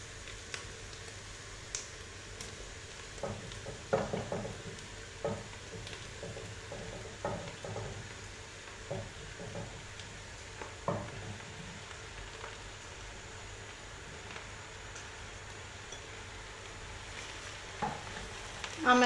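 Mushrooms fry with garlic in a pan, a steady soft sizzle under repeated scrapes and clicks of stirring, fairly close and quiet, with no talk.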